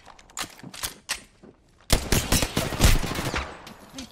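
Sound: gunfire in Apex Legends video game

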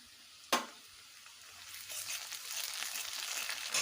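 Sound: frying ginger garlic paste with fried onions

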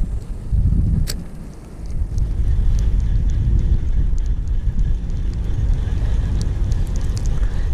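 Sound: wind at a fishing park

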